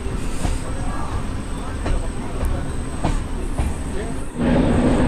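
A train on the Visakhapatnam to Araku line rumbles steadily along the tracks with faint rhythmic clicks, the noise swelling louder near the end; a voice may be faintly present.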